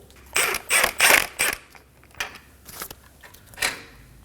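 Ratchet clicks from a 17mm socket wrench backing a bolt out of the front suspension of a 2016–2020 Kia Optima, several close bursts of rapid clicking followed by lighter, spaced metallic turns.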